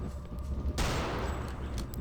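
Rapid gunfire in Return to Castle Wolfenstein as a boss is shot in the catacombs: a dense, loud burst of continuous shots erupts after a short quieter stretch and keeps going to the end.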